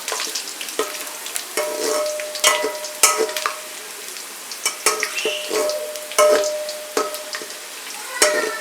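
Onions crackle and sizzle steadily in a hot pan as they fry to golden brown for chickpea pulao, with intermittent stirring scrapes and soft clinks, no talking.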